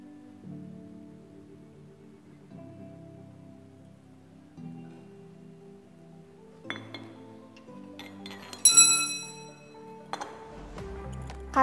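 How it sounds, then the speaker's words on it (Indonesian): A glass measuring cylinder clinks in a chemistry lab during a solvent extraction with petroleum ether. Light clinks and taps come faintly at first, then sharper clinks and a bright ringing knock near the end, over a low background hum. "Kita langsung menggunakan gelas ukur saja ya teman-teman."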